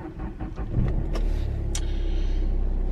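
Inside a moving car on Christmas Eve, a steady low engine rumble and road hum fill the cabin, with a couple of faint clicks over the constant drone.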